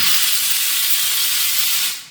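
Steam hisses steadily from the open valve of a Comel Pratika boiler iron during blow-down, a loud, broad, constant rush that tapers off at the end, with no talk.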